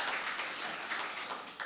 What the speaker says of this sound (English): I think she deserves another round of applause